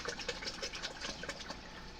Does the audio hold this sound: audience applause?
no